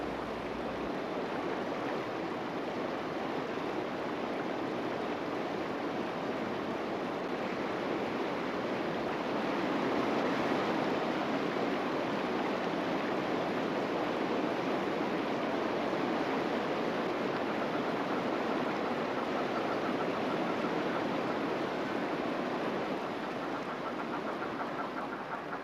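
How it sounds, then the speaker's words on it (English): Torrent of flash-flood water rushing across desert country after a heavy storm, a loud, steady broadband roar that fills the whole stretch with no pauses and no voices. "The flash flood sweeps away the Brumby carcasses and the stench of death."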